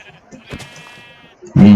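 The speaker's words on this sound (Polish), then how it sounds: "owca." A short bleat of a sheep in Minecraft sounds at the end after a brief quiet stretch with faint noises.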